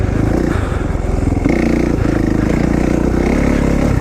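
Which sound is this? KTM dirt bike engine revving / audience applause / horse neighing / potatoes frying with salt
KTM dirt bike engine revving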